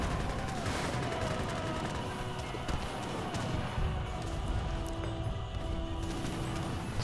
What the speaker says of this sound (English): Getting completely cooked by the artillery.